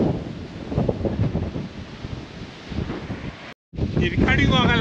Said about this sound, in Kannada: ಗಾಳಿ, ವಿಪರೀತ ಗಾಳಿ